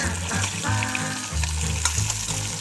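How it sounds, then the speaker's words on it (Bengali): Fish pieces frying in hot oil in a pan make a dense, close sizzle with spitting crackles throughout, steady and fairly loud with no voices. "মাছগুলোকে খুব ভালো করে ভাজা হতে দেব"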